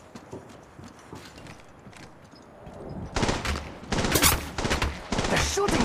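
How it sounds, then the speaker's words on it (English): Enemy gunfire in Apex Legends Mobile, a dense clatter of rapid shots that starts partway through and keeps going in loud, close bursts over faint earlier shuffling. "They're shooting at me!"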